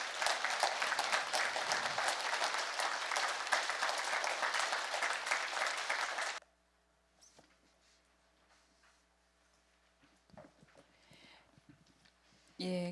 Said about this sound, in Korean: 열렬한 박수로 지지를 받았는데